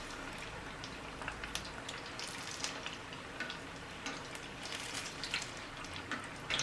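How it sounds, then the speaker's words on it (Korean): Steady crackling and sizzling of a breaded cheese pork cutlet deep-frying in hot oil, a dense patter of tiny pops like light rain, close and continuous with no talking. "튀김 소리가 낭만적으로 들리는 건 저만 그런가요?"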